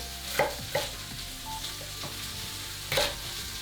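Beef short ribs browning in a pan, a soft, steady sizzle with a few brief sharp clicks and pops scattered through it.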